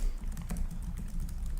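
Keys tap steadily on the keyboard of an Acer Predator Helios 300 gaming laptop, a rapid run of soft, close clicks over a low background hum with no talking.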